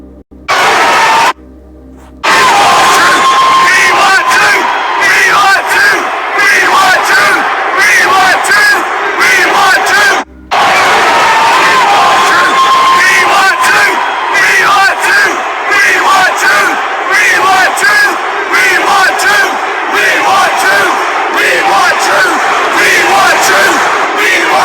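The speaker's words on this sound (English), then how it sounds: "look what the crowd was chanting" A wrestling arena crowd chants loudly and continuously in unison, a dense roar of many voices filling the space, with a brief drop-out near the start and another short break midway.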